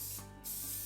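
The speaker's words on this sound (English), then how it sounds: "Before I put them in the oven, I'm going to give them a spray of oil." Oil sprayed from a can onto crumbed fish pieces before they go into the oven: a steady close hiss that dips briefly midway, then resumes, alone with no talk.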